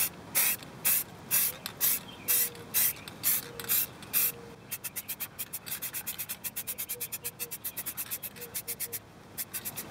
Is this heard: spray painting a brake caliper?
yes